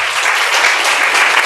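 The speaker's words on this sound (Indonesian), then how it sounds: "beri tepuk tangan yang meriah buat Raja kita" A church congregation claps during a sermon: dense, loud, continuous applause from many hands that holds steady from start to finish.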